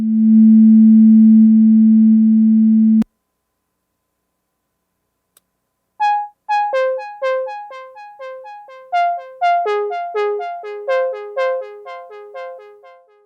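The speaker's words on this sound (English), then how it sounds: "Okay, so this is a very nice sine wave lead." Original Ableton track with a synth sine-wave lead drenched in delay: a held pure tone cuts off, then after a silent gap a clean melodic sequence of short plucked sine notes plays with echoing repeats trailing each note.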